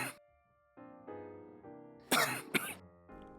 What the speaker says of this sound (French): le mécanisme naturel est l'expulsion de la substance par simple réflexe de toux